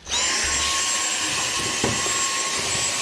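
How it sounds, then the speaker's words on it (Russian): A Dyson vacuum cleaner three years in service runs continuously, a loud steady high-pitched motor whine with a faint brief knock partway through and no talking. "Если не справляется, нажимаем турборежим, и пылесос дальше, в принципе, с этим совсем делом справляется на ура."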